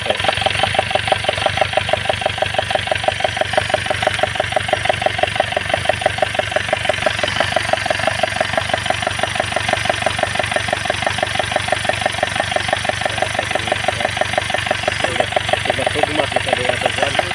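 Engine of a roller coaster machine with burnt wiring, running loud and close with a fast, steady knocking pulse that keeps an even rhythm throughout, with faint voices in the background.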